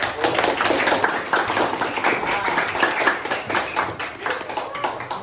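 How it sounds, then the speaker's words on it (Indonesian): Students in a junior high classroom clap together in a brisk, steady patter of hand claps, close and moderately loud, with no talk over it. "Berikan tepuk tangan dulu."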